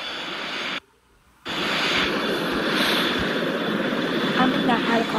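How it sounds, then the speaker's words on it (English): A helicopter in a tycoon video game gives a loud steady rotor and engine drone throughout, briefly cut out near the start before it resumes at full level. "I'm in that helicopter."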